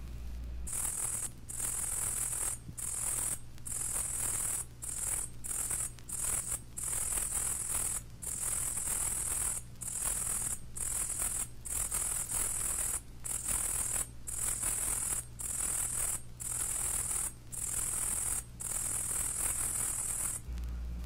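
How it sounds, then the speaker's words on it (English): Short-legged shield-bearer katydid, Atlanticus testaceus, singing a soft, high-pitched buzzing song in repeated bursts separated by brief, regular gaps, steady and continuous, with a low hum underneath. "is a short-legged shield-bearer, Atlanticus testaceus. It sings a soft, high-pitched song along forest borders and in brushy pastures"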